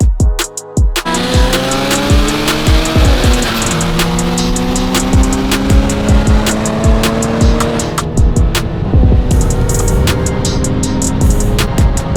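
A Toyota Celica with a 3S-GTE engine races hard, its engine loud and close as it revs up through the gears, with tire squeal and skidding and sharp clatters over a constant roar.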